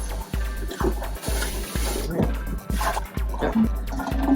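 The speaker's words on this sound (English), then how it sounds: "Splash some water around in here. Give it a good rinse." Water splashes and drips while an aquarium filter is rinsed, with irregular sloshing and trickling in the foreground and a steady low hum underneath.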